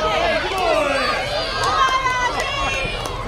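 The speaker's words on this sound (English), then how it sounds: "You can hear the crowd loving Argy." A crowd at a live pro wrestling match in Australia cheers and shouts loudly and continuously, many overlapping voices filling the hall.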